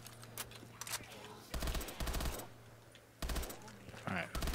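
Bursts of AK rifle automatic fire in a zombies video game crackle in several short volleys with gaps between, fairly quiet overall, with voice remarks mixed in.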